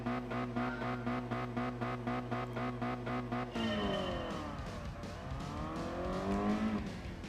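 A race car in Gran Turismo Sport, a racing school session, runs with a steady buzzing engine drone that then shifts into rising and falling revs with squealing tires, loud and continuous throughout.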